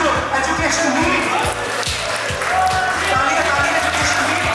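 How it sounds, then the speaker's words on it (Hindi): Audience applauding at a final-year computer science project exhibition award ceremony, loud continuous clapping with crowd noise and a rhythmic low thumping beneath. "तालियां"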